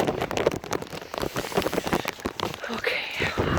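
Rain falling outdoors around a person bathing in an outdoor tub, a steady close patter of drops on surfaces with a speaking voice over it.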